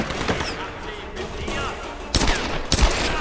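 Gunshots ring out in the Tomb Raider video game, a few sharp cracks, two heavy ones close together near the end, over a busy, rumbling game background.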